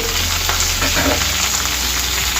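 Carrot pieces, curry leaves and green chillies frying in oil for jowar upma, a loud dense sizzle with faint stirring under a steady hum.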